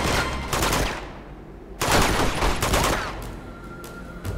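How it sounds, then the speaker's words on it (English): Enemies shooting guns in the Uncharted 2 video game: loud volleys of rapid gunfire come in separate bursts, with a quieter gap between them and a few scattered shots toward the end. "They're shooting at the wrong place."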